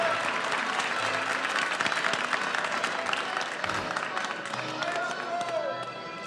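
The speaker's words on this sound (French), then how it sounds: "Allez, on l'applaudit bien fort, on l'encourage." A crowd at the World Barista Championship France 2017 final applauds a competing barista, sustained loud clapping with some cheering that holds steady throughout and softens slightly near the end.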